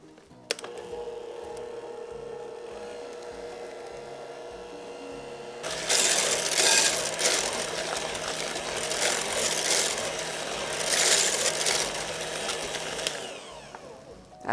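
An electric mixer whirls orange creamsicle cheesecake filling in a bowl. A quieter mechanical hum jumps to a louder, rougher whirring partway through and then runs steadily.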